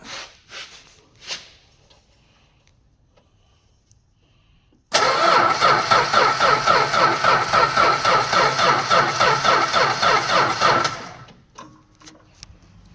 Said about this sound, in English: so you can hear it is cranking over